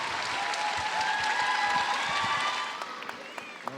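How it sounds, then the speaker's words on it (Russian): An arena crowd at the Russian figure skating championship applauds in a loud, dense, sustained wash of clapping that tapers off toward the end, with a voice talking over it. "Ваши аплодисменты, Петр Гуменник."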